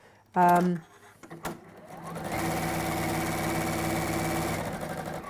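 A sewing machine stitches a seam about a quarter inch from the edge, running in one steady, close, humming burst of several seconds after a brief voice and a few handling clicks.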